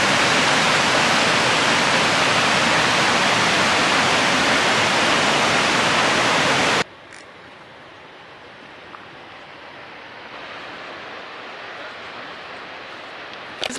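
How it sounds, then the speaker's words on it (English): Broadband roar of an Icelandic waterfall, loud and steady for the first half, then cutting abruptly to a much quieter, distant rushing of water. "Made it to the first, well, I guess technically now the second waterfall."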